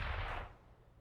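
Grenades and a molotov go off in a Counter-Strike match on Mirage, a loud low-heavy burst of explosive noise at the start that fades over about a second.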